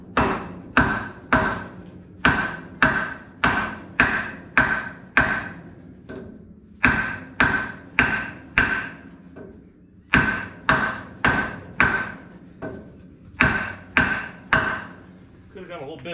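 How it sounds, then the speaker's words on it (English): Repeated sharp hammer blows on the metal of a Baja Bug car ring out in quick bursts of three to five strikes, separated by short pauses, loud and close. "Could have got a little bit bigger hammer."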